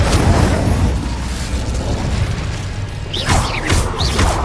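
A loud, sustained roaring blast from the Confringo fire spell in Hogwarts Legacy, with crackling debris and swooshing magical effects toward the end.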